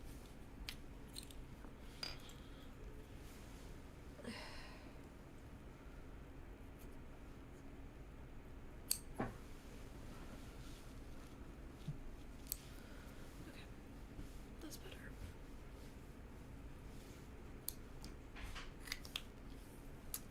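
Scissors snip in scattered, quiet clicks over a low steady background hum, with a few sharper cuts standing out; no one speaks.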